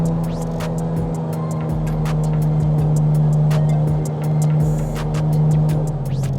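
A Carenado M20R Ovation's piston engine in Microsoft Flight Simulator 2020 drones steadily and loudly, holding a strong low tone as the throttle comes back up, with a brief dip and swell in level and no talking.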